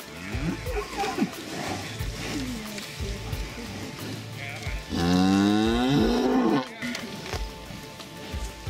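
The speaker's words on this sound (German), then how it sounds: "Diese freundlichen Rindviecher sind keine Kühe." Cattle in an Alpine-foothill pasture near Andechs give a long, loud moo mid-clip, with fainter lowing before it and someone talking over the scene.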